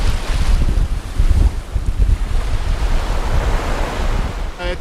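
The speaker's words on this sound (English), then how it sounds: "It has been a very challenging night with heavy waves and heavy snow all night" Heavy surf and gusting wind batter a singlehanded sailboat crossing the North Sea on a winter night with snow, a loud continuous roar of breaking waves and wind buffeting the microphone, with no voices.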